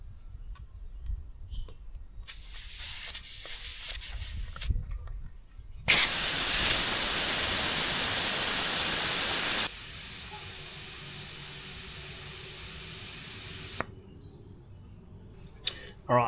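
Tyre deflators fitted to all four tyres, Camp Boss and Stauns models, release air in a steady loud hiss. The hiss starts abruptly, drops to a lower level partway through, then cuts off, with faint clicks before and after.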